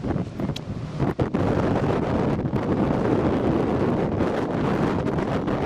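Wind gusts buffet the microphone on a canoe trip, a steady low rushing roar with a few sharp thumps early on, loud and constant throughout with no voices.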